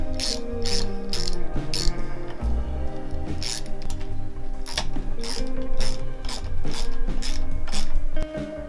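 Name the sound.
ratchet with 10mm socket loosening and tightening bolts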